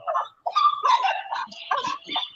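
Puppies yipping, barking and whimpering close by, a busy run of short high-pitched yelps and whines that overlap for about two seconds, with no talking over them.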